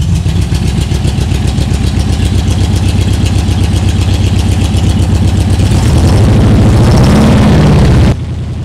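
A 1600cc flat-four engine in a 1968 Porsche 912 cranks over and catches, settling into a steady, lumpy idle nearby, then cuts off abruptly near the end.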